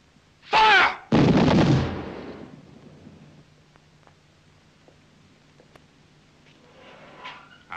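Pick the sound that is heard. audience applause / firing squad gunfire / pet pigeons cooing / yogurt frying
firing squad gunfire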